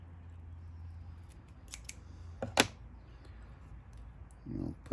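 Scissors snip fly-tying wing material close to the hook in a few quick, faint metallic cuts near the middle, close up in a quiet room, with soft talking before and after.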